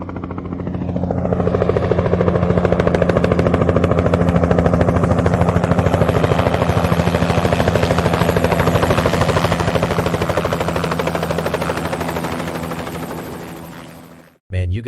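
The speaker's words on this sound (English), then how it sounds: "Looks like military or militia choppers." Military helicopters approach with a loud, steady rotor drone and whine that holds for about fourteen seconds, then cuts off abruptly near the end.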